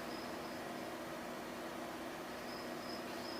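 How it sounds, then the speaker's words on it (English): Night crickets in a flight simulator, a faint high trill fading in and out over a steady background hiss, returning more clearly near the end. "You can hear the crickets at night."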